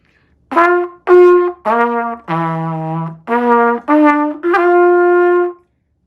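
A son's trumpet played by a French horn player in a church Sunday school, a loud, close run of seven sustained brass notes with short gaps, played alone.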